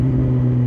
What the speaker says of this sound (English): He's just revving the shit out of it.